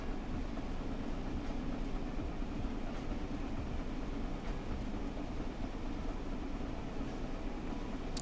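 A train in the Train Sim World 4 game accelerates with the reverser at full, giving a steady, dense rumble and rail noise at an even level throughout, with no talk.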